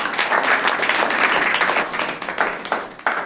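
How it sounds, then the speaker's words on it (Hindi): A class of schoolchildren claps for a classmate's handmade bouquet, a short burst of lively, uneven applause with distinct individual claps that thins out toward the end. "इसके लिए जोरदार ताली होगी।"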